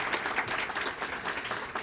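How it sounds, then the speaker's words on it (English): A large conference audience claps steadily to welcome the Honorable Jane Philpott at an opening session in Ottawa, a dense, even wash of applause throughout. "That's going to be a double applause."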